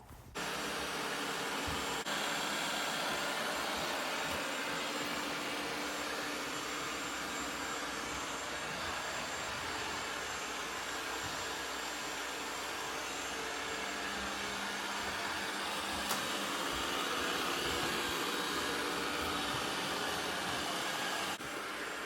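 A robot vacuum cleaner runs through a house with a constant broadband whir that holds steady for the whole stretch, close by and fairly loud, with no voices over it.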